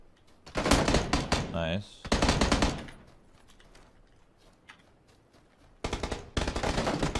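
PUBG gunfire bursts in rapid automatic volleys, loud and close, in three distinct bursts separated by a quieter stretch, with a player speaking briefly.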